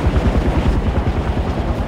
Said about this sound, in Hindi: हेलीकॉप्टर